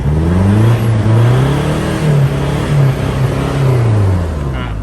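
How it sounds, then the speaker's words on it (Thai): A 2006 Mazda BT-50 top-spec open-cab pickup with its stock, unremapped engine idles and revs steadily up close, a low continuous drone that rises and falls slightly in pitch over several seconds. "เครื่องฟิตตาติดง่ายนะครับ คันเร่งตัวนี้ติดเท้าดีนะครับ"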